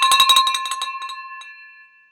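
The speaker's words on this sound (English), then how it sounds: "I'm ready to ring this bell." A celebration bell rung rapidly several times, with bright clanging strikes that then fade into a long, ringing metallic decay, loud and close with no talking.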